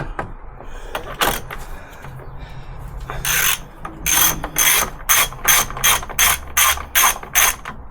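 A ratchet loosening the battery hold-down bracket on a VW Polo 6N2. A few scattered clicks come first, then a loud run of about nine rapid, rhythmic ratcheting bursts close to the microphone.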